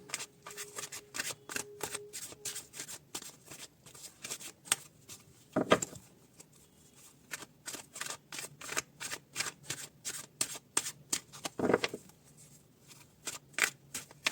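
Tarot cards are handled and shuffled in a quiet room, giving many rapid, crisp flicks and riffles in uneven bursts, with a couple of louder thumps as the deck is tapped or set down.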